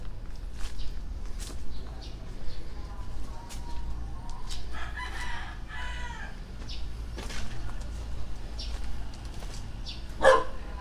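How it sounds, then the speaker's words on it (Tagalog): Dog barking in a cemetery, short scattered barks at middle distance mixed with a rooster crowing and hens clucking, over a steady low background hum. "Tatawalan na naman ako ng aso."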